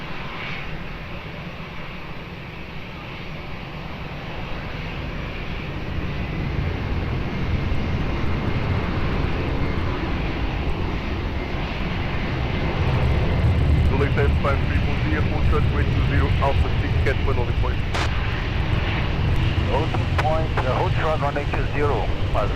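Jet airliner taking off at Lisbon Airport, a broad engine roar that swells steadily louder and fuller across the clip, with faint radio voices audible beneath it.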